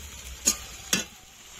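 Chicken curry in a pan with water just added gets two quick spoon scrapes about half a second apart, set against a quiet, low simmering background; soft and close, with no one talking.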